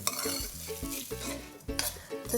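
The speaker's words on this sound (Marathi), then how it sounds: "तांदूळ आपण तुपावर भाजून घेतोय" Rice grains roast in ghee in a pan over low heat, with steady soft sizzling and rhythmic scraping strokes of a stirring spoon, close up.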